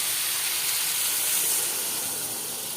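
Water poured into a hot pan of fried vegetables, pumpkin and papaya, raising a loud continuous steamy hiss that barely changes throughout.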